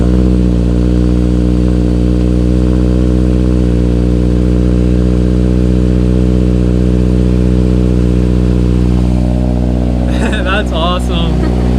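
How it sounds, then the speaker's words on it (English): Subaru Crosstrek fitted with a Nameless aftermarket exhaust runs at a cold-start idle, a loud, deep, steady burbling drone close to the exhaust, with a brief clatter and voices toward the end. "Alright, first cold start with the Nameless exhaust."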